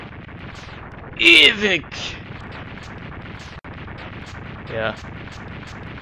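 Explosions in the Megaman X2 video game: a loud burst of blasts with falling, warbling tones, then a second fainter burst, over game music and someone talking throughout.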